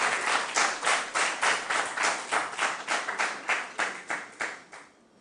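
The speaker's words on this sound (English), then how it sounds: "Round of applause for them." A small audience claps in a steady, rhythmic beat for school quiz contestants, about twenty evenly spaced claps that fade out near the end, with no voices.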